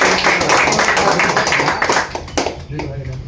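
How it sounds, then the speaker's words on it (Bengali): Applause for blood donation award winners at a ceremony, a loud crowd clapping that carries on for a few seconds, with voices mixed in. "শাহজুল ভাই এবং বিপ্লব ভাইয়ের জন্য আমরা একটা হাততালি দিই"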